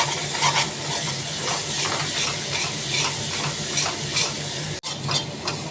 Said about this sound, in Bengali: এবার একটু শুকনো শুকনো করে ভেজে নেব